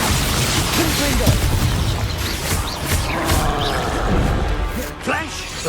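Confringo blasting spell from Hogwarts Legacy going off in a dense, loud barrage of crashing bursts and booms over continuous rumbling battle noise, with a voice calling out amid the chaos.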